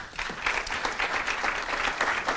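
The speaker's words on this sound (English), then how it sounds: "Give me a round of applause." Live event audience giving a round of applause, brisk continuous clapping at moderate loudness with no speech over it.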